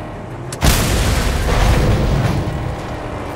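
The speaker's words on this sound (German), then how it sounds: "Mein Auto explodiert bei der ersten Berührung." A sudden loud boom of a car explosion in the video game Mad Max, followed by a rumbling, roaring blast that lingers for a few seconds.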